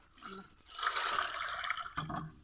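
Water is poured over fish being washed in a bowl, a close, steady splashing and trickling stream with a brief pause near the end.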